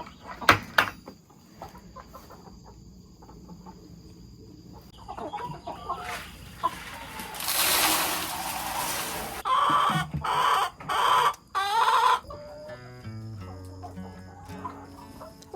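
Chickens clucking inside a backyard coop in the morning, a few scattered clucks and rustles at first, then a burst of flapping and a run of loud, rhythmic clucks and squawks close by.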